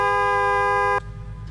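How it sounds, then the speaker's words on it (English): A car horn sounds in the Test Drive Unlimited Solar Crown racing game: one steady, loud honk held for about a second, then cut off abruptly, leaving quiet engine idle. "Can we honk the horn?"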